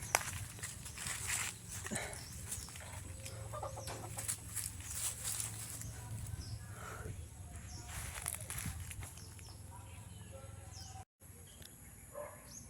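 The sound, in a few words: chickens in a chicken coop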